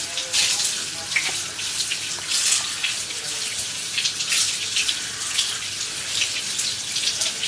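Tap water runs steadily into a sink during handwashing, a continuous hiss with brief splashing bursts as hands are rinsed, fairly close and with no talking.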